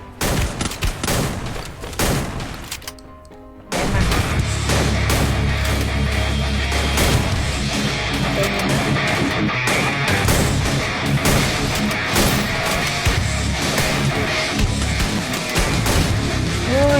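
An M590 shotgun fires a few sharp reports, then a long dense roar of rapid gunfire follows, loud and close, with no voices heard.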